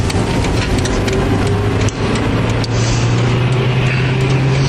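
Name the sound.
car driving and overtaking on the road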